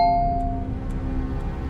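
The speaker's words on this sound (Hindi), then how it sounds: "वो एड्रेस पे जाके वो डोरबेल बजाता है।" A doorbell in a horror story rings once as a bright, single chime that rings out and fades slowly over a low, murky background, with no one talking.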